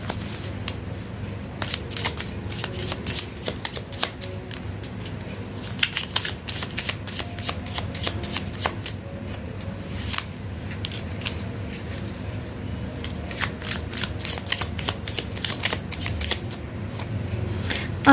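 Tarot cards are shuffled by hand in quick, crisp riffling bursts that repeat almost without pause, close and fairly loud, with no talking over them.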